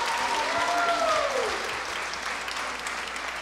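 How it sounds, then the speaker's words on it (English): Boxing fans at ringside applaud both fighters after a bout, a dense burst of clapping with a whistle rising over it early, then settling into steady applause. "big round of applause for both fighters"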